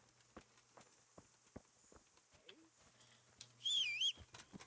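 Horse hooves in Kingdom Come: Deliverance clop in a faint, uneven series of soft thuds, with a brief louder bird-like chirp partway through.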